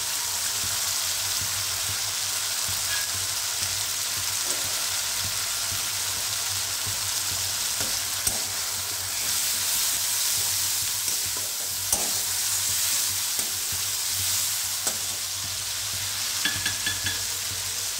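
Fish head frying in oil with turmeric and being stirred for a Bengali fish kalia, a steady close sizzle with occasional scraping clicks of the spoon throughout.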